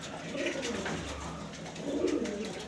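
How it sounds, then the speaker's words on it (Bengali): A female Afsan grizzle pigeon coos in a loft, low soft rolling calls repeating close by, with faint chirps from other birds behind. "এটা মাদি কবুতর"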